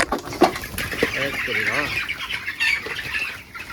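A farm rooster squawks and cackles in agitated bursts as it is picked up and held for weighing, with flapping and rustling close by.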